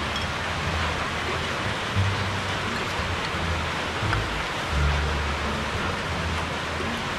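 Steady rain falls outside during a spicy noodle meal, a continuous broadband hiss with a few low thumps; no talk over it.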